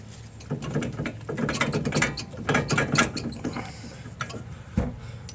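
Bolts are worked loose and pulled out during engine and transmission removal on a 2011-2019 Ford Explorer 3.5L, a close run of ratcheting clicks and metallic rattles with uneven bursts and short pauses.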